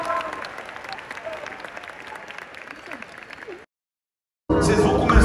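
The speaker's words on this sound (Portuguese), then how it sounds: "Um aplauso para o Fernando ter vindo tão longe." Audience at a church event clapping, a dense, lively burst of applause from a crowd indoors that cuts out abruptly and then resumes loudly for the last second.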